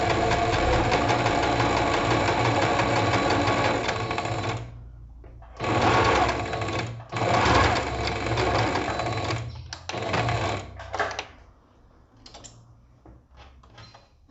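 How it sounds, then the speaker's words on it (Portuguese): Sewing machine stitching an English seam along a fabric fold: loud, close bursts of rapid mechanical whirring, a long run followed by shorter starts and stops, ending in scattered clicks as the fabric is handled. "E venho, ó, costurando, dou um retrocesso lá no início e venho costurando."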